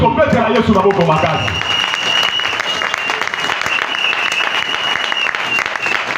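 A church congregation at a Sunday sermon breaks into loud, sustained applause and cheering, with a voice calling out over the clapping at first before the crowd noise carries on alone.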